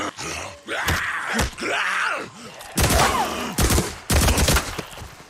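Rapid bursts of gunfire from a weapon in the video game Days Gone, loud and close, separated by short gaps and mixed with pained groans.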